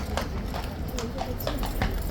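Hooves of a huge 18.2-hand Blues and Royals King's Guard gelding clop in a quick, uneven, dancing rhythm on a hard street, close by, with crowd noise and talk around.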